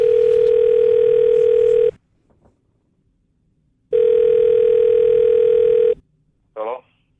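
A phone line rings out while calling parents: two long steady ring tones separated by a pause of silence, then a brief click as the call connects.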